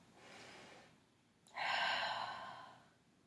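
Two breaths during a Pilates exercise, a soft airy intake followed by a sharper, louder rush of air, close and alone.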